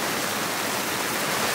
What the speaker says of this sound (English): I don't think I've seen rain like this in years!